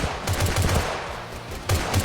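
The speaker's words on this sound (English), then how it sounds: "Somebody's shooting a shotgun." Gunfire in a video game, with rapid bursts of close, punchy shots in two clusters over a noisy background, without any talk.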